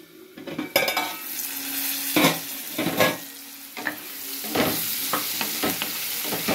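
Onion and potato pieces fry in hot oil, a continuous close sizzle punctuated by several sharp scraping stirs and clinks of a utensil against the pan.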